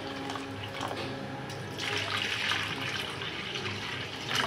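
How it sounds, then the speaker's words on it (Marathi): Water is poured into a pot of lentils and vegetables for sambar, a steady splashing stream that grows fuller and louder partway through. "याच्यामध्ये पाणी टाकूया आपण बुडेल इतपत"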